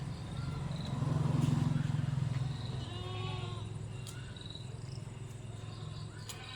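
Two crossbreed goat kids, young males, bleating nearby, with a sustained loud bleat early followed by softer calls, over a steady background hum.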